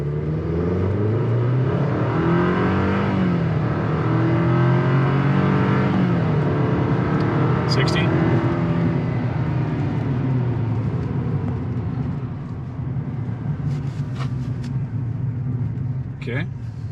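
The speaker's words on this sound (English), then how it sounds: "this is gonna be flat footing with the turbo" A 2023 Chevy Colorado Trail Boss turbo pickup launches at full throttle from a standstill to 60, its loud engine note climbing steadily in pitch and dipping at gear changes, heard from inside the cab.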